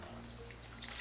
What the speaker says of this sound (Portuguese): aqui vou adicionar minha água aqui